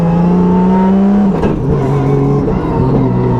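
A race car engine drones loudly and close on a slow warm-up lap to scrub cold tires, its tone dipping briefly before climbing again.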